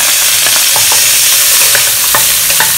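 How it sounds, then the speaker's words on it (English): Bird's eye chili, garlic and shallots sizzle steadily in a hot pan for sambal belacan, with the occasional scrape and clink of stirring, close and loud throughout. "Just fry them for a while,"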